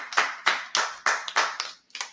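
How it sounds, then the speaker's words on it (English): A small group in a brotherhood class claps hands in a loose, steady rhythm, about eight sharp, close bursts with one brief gap near the end. "Let's clap it up."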